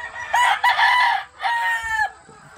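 A Sweater gamefowl rooster crows up close in a single loud call, broken into a short opening note and a long drawn-out tail that drops off sharply at the end.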